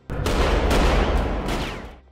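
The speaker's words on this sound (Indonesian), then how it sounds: "Antonia langsung melepaskan tembakan saat George menunduk." A rapid burst of loud film gunshots, several blasts overlapping in a rolling volley before fading out.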